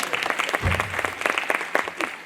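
An audience at a public speech or religious discourse gives sustained applause, a dense wash of many hands clapping at a steady level with a few sharper claps standing out.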